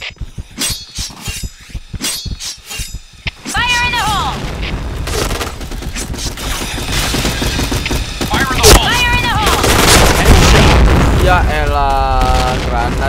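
Point Blank video game combat: sharp gunshot bursts open the scene, then dense continuous explosions and gunfire roar loudly, with voices calling out over the chaos.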